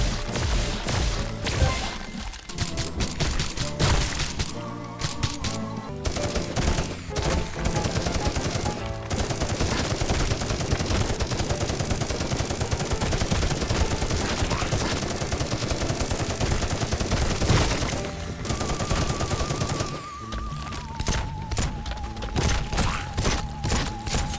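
Continuous rapid weapon gunfire in the zombie shooter Zombieville USA 3D, loud and sustained for the whole stretch, with dense repeated shots, crashing impacts and brief pauses, alone without talk.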